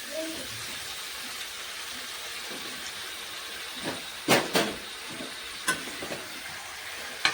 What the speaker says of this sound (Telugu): పసుపు అండ్ ఉల్లిపాయలతో సహా మంచి కలిపేసేయాలి